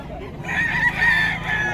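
A young rooster (stag) crows once, loud and close, a drawn-out call lasting over a second, with faint voices in the background.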